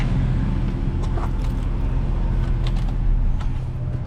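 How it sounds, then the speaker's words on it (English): Engine of a 2016 Ford C-Max Energi plug-in hybrid runs at a steady idle, a low continuous hum with faint intermittent clicks, heard close and alone without talk. "The engine's running."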